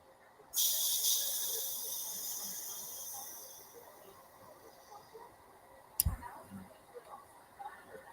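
Compressed air hisses steadily from a cleaned airbrush once its valve is opened, a soft close rush fading over a few seconds, followed by a faint click and light handling noises.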